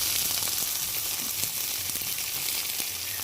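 Fish fries on a stone pan with a steady, bright sizzle and crackle throughout, close and continuous, no talk.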